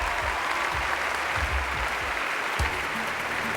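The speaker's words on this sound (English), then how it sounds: "a big round of applause for both my volunteers" An audience applauds volunteers at a Las Vegas magic show, a steady, dense wash of clapping that holds at an even level throughout, with no voices standing out.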